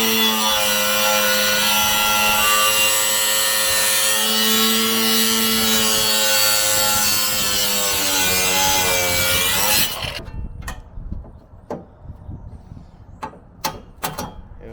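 A power saw cuts metal during a transmission cooler install on a Chevrolet Silverado, a loud, close, steady high-pitched whine for about ten seconds that stops abruptly, followed by a few sharp clanks and taps.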